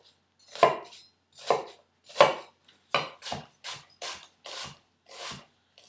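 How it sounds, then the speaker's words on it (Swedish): Knife chopping ingredients for green pea soup, about nine close, crisp strikes, spaced unevenly at first and then quicker, with no talking. "Vi hackar den."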